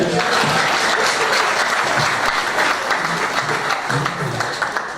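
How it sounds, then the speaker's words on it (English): An audience at a builders conference technical session breaks into loud, sustained applause, many hands clapping together in a thick, continuous wash, with a faint murmur of voices beneath that eases slightly toward the end. "So clap for him again."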